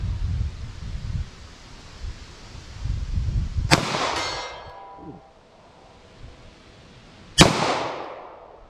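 Two sharp 9mm revolver shots, each followed by a ringing metallic clang off steel targets, a few seconds apart, loud and close, with no talking.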